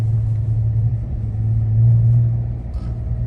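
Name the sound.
V6 Chrysler 300S exhaust rumbling in cold weather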